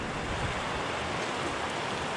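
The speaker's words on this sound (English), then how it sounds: "Yeah, raining extremely hard" Very heavy rain pours down in a dense, unbroken roar that fills the whole stretch evenly, loud and close with no voices over it.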